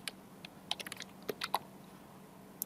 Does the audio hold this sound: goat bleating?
no